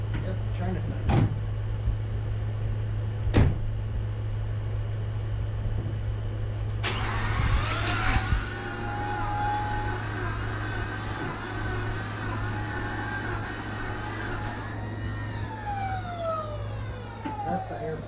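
The air pump on a 2005 Mazda RX8 rotary engine runs as a steady whine over the idling motor after a startup burst, holding for several seconds before trailing off near the end.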